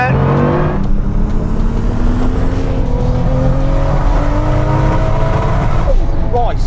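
A supercar launches hard with a brief tyre spin, its engine roaring loud and close as the pitch climbs steadily through the run, with excited voices over the engine noise.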